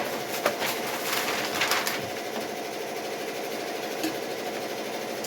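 A Ricoma EM1010 embroidery machine runs with a steady mechanical chatter of rapid stitching, fairly faint and close, with a few brief clacks and bumps over the continuous hum.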